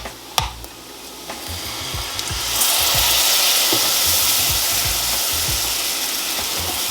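Half and half poured into a hot pan for spinach and artichoke dip, starting with a clink and low bubbling, then bursting into a loud steady hiss and sizzle that holds to the end.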